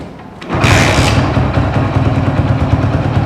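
A second-hand motorcycle engine catches and settles into a steady, throbbing idle, loud and close, running alone without any voices.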